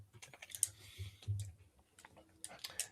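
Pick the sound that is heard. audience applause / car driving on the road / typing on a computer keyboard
typing on a computer keyboard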